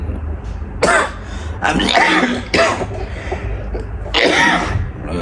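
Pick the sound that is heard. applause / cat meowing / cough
cough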